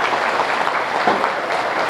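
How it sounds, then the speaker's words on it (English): Applause for the first-place winner at a junior swine show, a steady crowd clapping at moderate loudness for two seconds with no talk over it. "Let's give him a nice round of applause."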